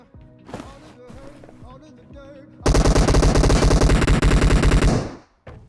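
Shotgun fire in the PUBG Mobile battle royale game, a loud dense burst of repeated blasts lasting over two seconds, preceded by quieter in-game sounds and a voice.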